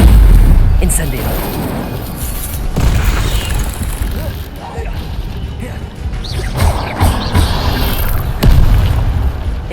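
Repeated Incendio fire-spell blasts in Hogwarts Legacy, a run of loud booming bursts and crashes in quick succession, with shouted voices calling out over the fighting.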